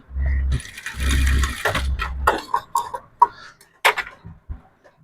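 A sewing machine stitches the collar of a sherwani, running in short bursts with rattling mechanical clicks and pauses between runs.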